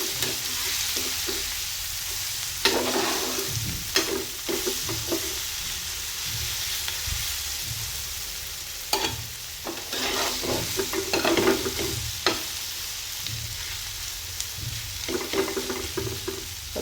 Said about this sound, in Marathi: आता 2 मिनिटं याच्यावर आपण असं परतून घेऊया.